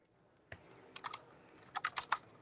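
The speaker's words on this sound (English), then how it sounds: "Man, what you typing, a book over there, Russ?" Typing on a computer keyboard during a live stream conversation: irregular bursts of quick, crisp key clicks, close and moderately loud, with no talking over them.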